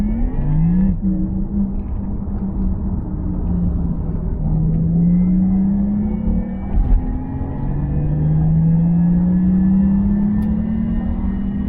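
A Porsche Taycan Sport Turismo GTS accelerates, its electric motor sound enhanced into a smooth humming whine that rises, dips and climbs again over a low road rumble, heard from inside with no talking.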